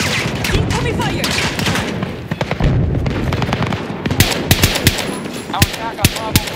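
Rapid gunfire rattles in Battlefield 2042, with dense automatic bursts and sharper single shots layered over constant battle din, growing punchier toward the end; faint voices may sit beneath the shooting.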